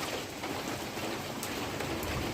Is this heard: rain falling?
yes